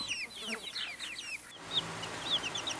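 Newly hatched chicks of an Australorp and Polish Frizzle mix chirp in a busy cluster of high cheeps. A quieter stretch follows, with a few separate peeps over a soft background hiss.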